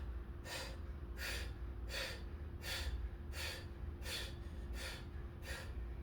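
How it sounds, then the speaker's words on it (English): Rapid fire-breath exhalations from a tantra breathing practice, about ten sharp, forceful nasal puffs in a steady, quick rhythm, close and fairly quiet over a low background hum. "So this breath is really a focus on the exhale."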